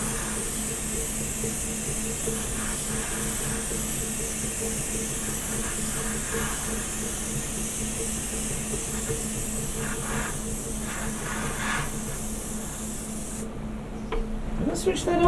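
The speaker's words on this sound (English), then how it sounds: "And then go with another coat of primer." A continuous spray hiss goes on as another coat of primer is applied to a wooden Tardis model, steady throughout, with a low hum underneath and a shift near the end.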